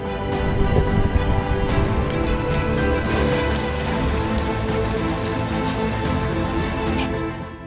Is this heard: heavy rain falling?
yes